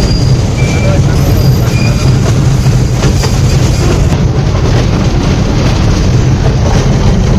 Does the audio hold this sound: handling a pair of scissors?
no